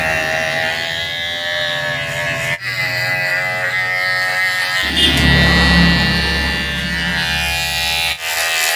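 An electric head massager buzzes steadily and close, a loud continuous motorized drone whose pitch and strength shift partway through, with no speech over it.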